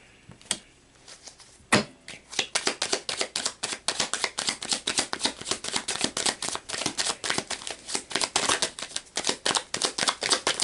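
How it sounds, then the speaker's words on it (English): Tarot cards are shuffled by hand in a long run of quick, crisp riffling slaps and flutters, close and steady, after a couple of isolated taps, with no talking over it. "We're going to pull the cards and then talk about it."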